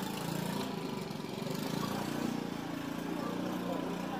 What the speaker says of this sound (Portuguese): Ai, esses barulhos de moto me incomodam demais, vocês não têm noção.